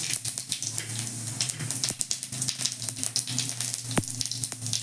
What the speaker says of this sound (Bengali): এবার আমি তেলের মধ্যে জিরে ফোড়ন দিচ্ছি